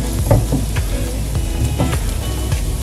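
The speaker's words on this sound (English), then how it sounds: "And to the oil, you want to add about a quarter of a white onion." A quarter of a white onion sizzles in about two tablespoons of hot olive oil in a pot, a steady crackling fry with a few louder pops and stirring scrapes, close and alone without talk.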